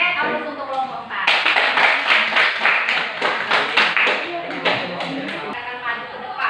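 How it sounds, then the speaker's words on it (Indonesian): Classroom applause for a student group, a dense burst of many hands clapping that starts abruptly and carries on steadily to the end, fairly close and loud, with a voice faintly under it. "Oke, aplaus untuk kelompok 4"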